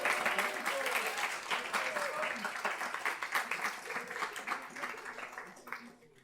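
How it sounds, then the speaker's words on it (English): An audience at a Boston internship celebration applauds steadily for a Community Music Center of Boston performer, dense clapping at moderate distance that holds for several seconds, then thins and fades out near the end. "Give a huge round of applause from Community Music Center of Boston"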